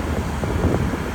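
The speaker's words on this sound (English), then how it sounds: "It's because it's so windy over here." Wind buffets a microphone outdoors, a continuous loud rumbling roar with gusty swells throughout.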